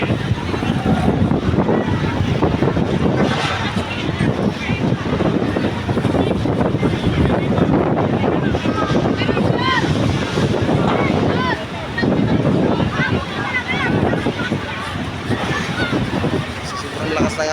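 Strong gusty wind buffets the microphone near a burning house in a dense Manila neighborhood, a constant loud roar with crowd babble and voices talking over it.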